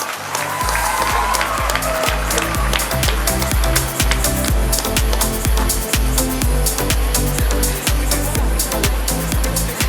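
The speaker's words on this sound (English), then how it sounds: "Please give him a big round of applause." An audience at a college inauguration claps loudly and continuously, dense applause filling the room with sharp overlapping hand claps that stay steady throughout.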